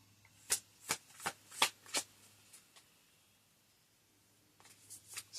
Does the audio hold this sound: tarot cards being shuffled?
yes